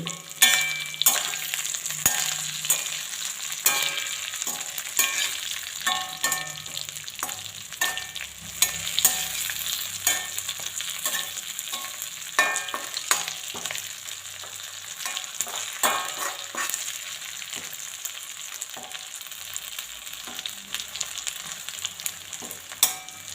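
Chicken pieces fry steadily in hot oil in a pan, a continuous loud sizzle broken by repeated scrapes and clinks as they are stirred and turned, with no talking.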